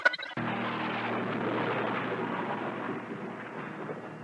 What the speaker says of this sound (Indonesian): Suara petir menyambar-nyambar, namun hujan belum juga turun.